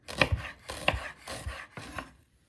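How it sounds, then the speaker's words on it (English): A knife slicing shallots thinly on a board for veal stew Marengo, four close, crisp chopping strokes in a steady rhythm, with no talk over them. "Make sure that your shallots are cut very thinly."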